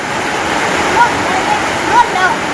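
Floodwater rushing in front of a house after heavy early-morning rain, a steady loud broadband roar of flowing water with faint birdlike chirps over it.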